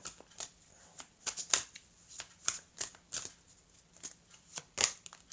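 Tarot cards being shuffled close up, a run of crisp riffling bursts and light slaps in an uneven rhythm, quiet between shuffles, one card jumping out of the deck, with no speech.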